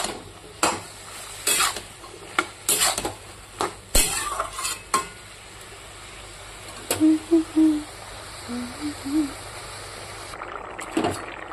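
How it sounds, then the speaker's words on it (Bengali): A spiced bottle gourd curry with turmeric and chilli paste being stirred in a pan, with repeated clattering spoon knocks and scrapes in bursts over a low sizzle, and brief faint vocal sounds midway. "এবার একটু নাড়াচাড়া করে ঢেকে দেবো"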